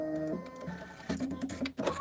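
An embroidery machine stitches a Kimberbell Sippin on Sunshine design through a 75/11 anti-glue needle, giving a steady mechanical whir with changing tones, close and alone with no talk.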